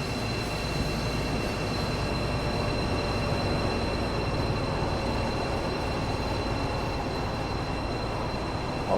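In a train simulator game, an HST passenger train rolls past with a steady, loud rumble of wheels on rails and faint high tonal whines held throughout, continuous and unbroken, with no voices.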